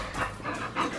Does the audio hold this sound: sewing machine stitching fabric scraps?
no